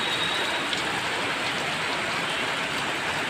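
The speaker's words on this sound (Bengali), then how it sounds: "দেখো প্রচুর বৃষ্টি প্রচুর হয়ে দেখো" Heavy rain falls steadily and loudly, a dense, even wash of downpour that stays constant throughout with no voices over it.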